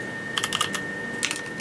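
Keys clatter on a computer keyboard in two quick bursts of close, crisp typing, separated by a short pause and set over a steady background hiss.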